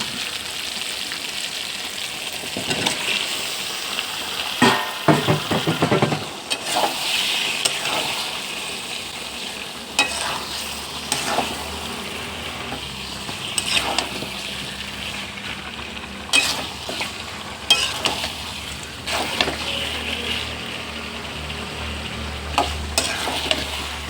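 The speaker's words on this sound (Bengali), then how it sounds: "নাড়িয়ে নাড়িয়ে মাংসগুলো আমি কষিয়ে নেব" Chicken pieces fry in oil with spices while being stirred, a loud continuous sizzle broken by repeated scraping and clattering stirring strokes, no talking.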